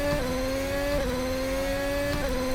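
RSS Formula Hybrid X 2021 race car engine in a racing video game, a steady high-pitched whine holding a constant pitch with brief dips at gear shifts, loud and close with no talk.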